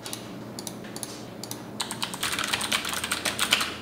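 Quick, crisp key clatter from a Bluetooth computer keyboard, starting as a few scattered taps and building into a dense run of steady typing, close and fairly quiet.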